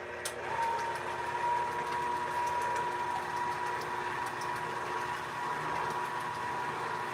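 An electric mixer whipping pumpkin pie filling in a home kitchen, a continuous mechanical whir with a steady tonal hum and faint rattling, close and unbroken, no talking.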